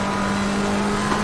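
A race car in Assetto Corsa Competizione downshifts over a crest, a loud, close, steady engine drone with a buzzing tone held through the brief moment.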